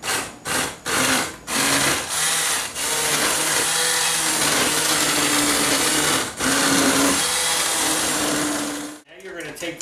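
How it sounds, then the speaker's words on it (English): An immersion blender purees soup right in the pot, its steady motor whir running almost without a break, with a few short stop-start pulses at the beginning and a brief pause near the end. "take my immersion blender and I'm just going to puree this right in the pot here"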